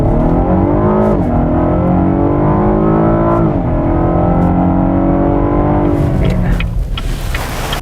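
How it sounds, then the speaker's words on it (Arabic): A 2016 Cadillac ATS Coupe with a six-cylinder engine accelerates hard, its loud, rising engine note climbing through repeated gear shifts before easing off into road and wind noise. "لكن فكرة عن تسارع السيارة"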